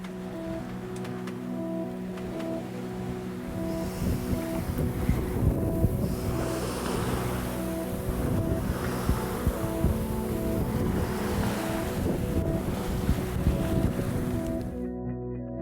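A sailboat under sail near Wangerooge, with continuous rushing water and waves along the hull, wind buffeting the microphone and a low steady hum throughout, no talking.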